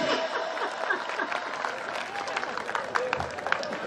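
A crowd at a Hindi comedy poetry show claps loosely, scattered hand claps and murmurs rising and falling, with voices talking over the applause throughout.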